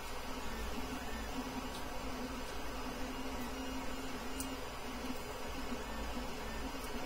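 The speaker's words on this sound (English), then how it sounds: "The fans are noisy. The printer itself is quiet." An Anet E12 3D printer, a CR-10 clone, runs with its noisy cooling fans giving a steady, continuous whir and hum at moderate level, unbroken throughout and with no talk.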